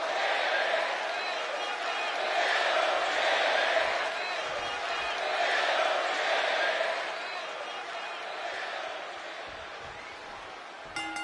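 Steady arena crowd roar from WWE 2K24 wrestling game, swelling and easing in waves through the whole stretch as R-Truth faces Robert Roode, with no other sound on top.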